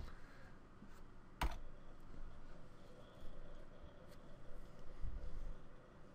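A password is typed on a computer keyboard, a faint scatter of soft key presses with one sharper click, quiet and close against low room hum, no talking.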